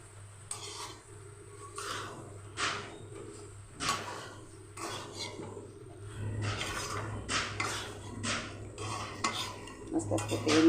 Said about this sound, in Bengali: মাঝে মাঝে নেড়ে দিতে হবে।